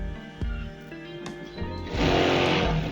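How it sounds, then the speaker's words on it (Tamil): A sewing machine stitches fall fabric along the edge of a saree in short runs, with a quiet click and whir that builds into a louder, steadier stitching burst toward the end, no talk heard. "இப்பயும் நம்ம எட்ஜில் தான் தைக்கணும்."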